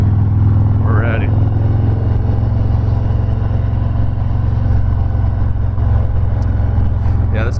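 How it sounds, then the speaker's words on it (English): A 2019 Harley-Davidson FXDR softail cruiser thrums along on a street ride, a loud, steady low engine drone close to the microphone with little change in pitch throughout. "this bike's very easy to go much faster than you think you are on it."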